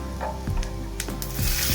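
Cumin seeds and half a spoon of asafoetida sizzle in hot oil in a kadai for a Kathiyawadi brinjal dish, giving a steady close frying hiss with small crackles and no voices.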